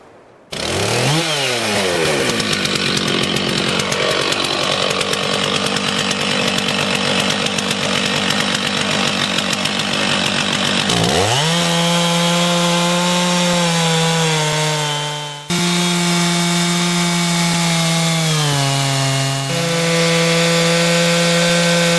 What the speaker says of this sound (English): Never operate a chainsaw without good hearing protection.